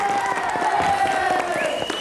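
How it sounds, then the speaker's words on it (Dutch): Studio audience applause for the teams on a children's Sinterklaas game show, steady clapping with some crowd noise throughout, a sustained tone running beneath it. "En een applaus voor de teams"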